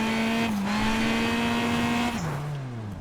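A rally car in WRC Generations brakes hard with locked tires after a jump, the engine's steady drone holding then dropping sharply in pitch as the braking bites, loud and close with no talk.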